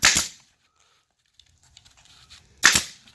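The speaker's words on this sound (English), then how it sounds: "Give it a staple on each corner." An upholstery-grade staple gun drives staples into fabric on a Toyota Tacoma bucket seat, two sharp close snaps separated by a pause with faint handling noise between.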